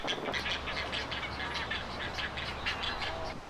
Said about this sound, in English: Ibis are another kind of wading bird that nests here.